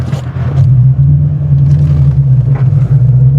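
A 2013 Ford Mustang GT with the MT82 manual gearbox, 100,000 miles on it, drives along with a loud, steady engine rumble heard from inside the car.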